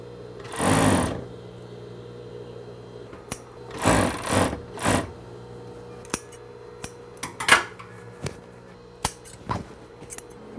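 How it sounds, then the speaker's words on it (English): An overlock sewing machine trimming and cleaning loose threads inside a garment runs in short whirring bursts, interspersed with sharp clicks and snips of handling. "This machine calls overlock, and it's to clean all the little threads inside."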